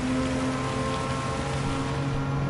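Rain in a BTCC sim racing game at a night race round at Dragon Gardens, a steady wash of rainfall hiss blended with droning engine tones, continuous and fairly loud throughout.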